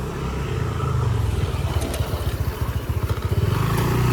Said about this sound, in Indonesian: Banyak yang naik motor, soalnya ini orang-orang yang pada dari Curug.